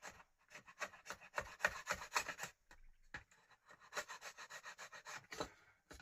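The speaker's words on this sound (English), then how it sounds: "We can just hopefully just chisel that off without damaging it too much." Chisel scraping paint off the faceplate of a 1980s Realistic tuner: a run of close, rough scratching strokes in quick bursts, a short pause near the middle, then more rasping scrapes, with no voices.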